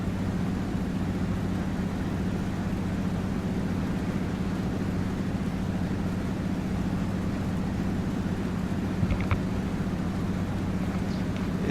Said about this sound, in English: Is it just me, or does that engine sound like it's running very rough?